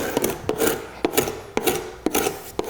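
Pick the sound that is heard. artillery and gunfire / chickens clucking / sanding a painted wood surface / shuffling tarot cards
sanding a painted wood surface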